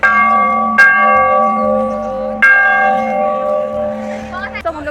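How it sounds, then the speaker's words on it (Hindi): A large temple bell is struck twice, each loud metallic clang ringing out with a long sustained hum that decays slowly between strikes, followed by faint wind and brief voices at the end. "और फिर हम लोग आ जाते हैं बड़े बाबा जी का बड़ा घंटा बजाने।"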